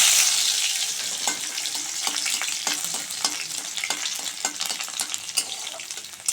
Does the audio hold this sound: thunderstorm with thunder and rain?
no